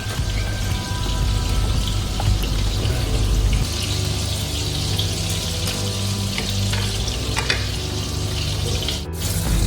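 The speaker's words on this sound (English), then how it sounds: "Then add water just a level of the chicken and then let it boil." Water poured into a pot of chicken afritada, a steady loud splashing and trickling with a low rumble beneath, continuous throughout with no voices.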